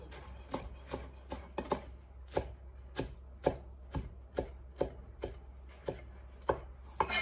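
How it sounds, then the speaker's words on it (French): Basil being minced with a knife on a cutting board for an aubergine dish, a steady series of sharp chopping taps, close and clear, with no talk. "je prends mon basilic que j'ai coupé tout à l'heure. Je vais l'émincer."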